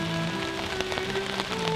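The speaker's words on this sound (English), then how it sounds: "it's pretty good steady rain right now" Steady rain pattering on a surface at a wilderness canoe campsite, dense and continuous, with a low hum running underneath.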